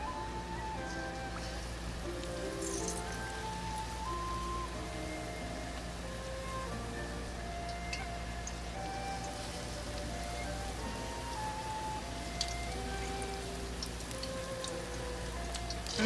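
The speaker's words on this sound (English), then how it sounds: "and we're going to deep fry it" Lobster pieces in tempura batter deep frying in hot oil, a steady dense crackle and fizz that holds evenly throughout without a break, with no talking.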